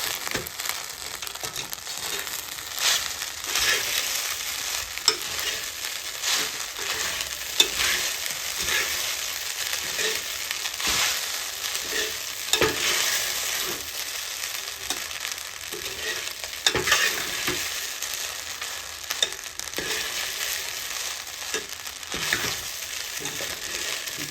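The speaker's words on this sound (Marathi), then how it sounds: "आणि व्यवस्थित हे आपले जे सर्व पदार्थ ते मिक्स करून घ्यायचे" Sabudana khichdi being stirred and mixed in a pan with spices, salt and sugar, a continuous soft sizzle under repeated scraping strokes of a spoon, steady and close with no voices.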